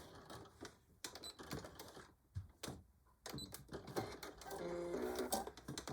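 A sewing machine back stitches while a beach or diaper bag is made, with short bursts of rapid mechanical stitching separated by pauses and clicks, close and fairly quiet, ending in a longer run.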